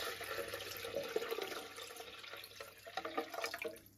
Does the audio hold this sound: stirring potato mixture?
no